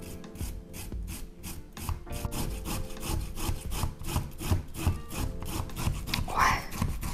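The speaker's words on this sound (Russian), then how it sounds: "Корень имбиря натираю на мелкой терке." Ginger root being grated on a fine grater, quick rhythmic rasping strokes repeating steadily and close up throughout, with no talking.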